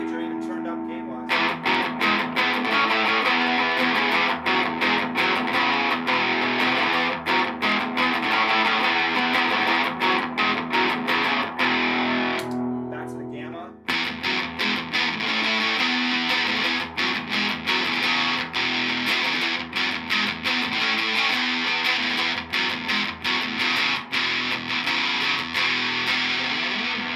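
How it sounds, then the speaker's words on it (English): An electric guitar played through a Pigtronix Gamma Drive Micro distortion pedal, giving a gritty, fuzzy, bright tone, with steady strummed and chugged chords running loud throughout apart from a brief pause midway. "this thing definitely has a lot of high-end, fuzzy, gritty distortion to it compared to something like the Voyager"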